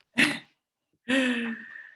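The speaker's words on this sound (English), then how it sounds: "He cannot stop coughing." A child coughs twice close by, a short harsh burst followed by a longer, strained, voiced cough that trails off.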